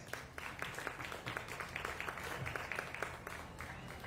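A crowd at a dairy and pygmy goat show gives a round of applause, a faint, distant patter of clapping that stays low and even.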